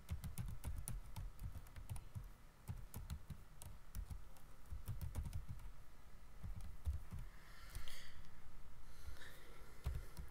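Rapid keystrokes on a computer keyboard tap out an email address, a quiet, uneven patter of clicks continuing throughout with no talk.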